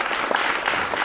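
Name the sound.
audience applause welcoming a guest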